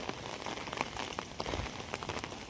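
Steady rain pattering outdoors on surfaces during a rainy spell, a continuous dense hiss of drops at moderate distance with no voices.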